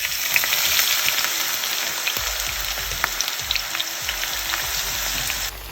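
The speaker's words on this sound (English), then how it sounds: "So the oil and ghee has turned hot. So now let's add the sliced onions." Sliced onions fried in batches in hot oil and ghee for Thalassery chicken dum biryani, a loud steady sizzle with crackling pops close up, cutting off abruptly near the end.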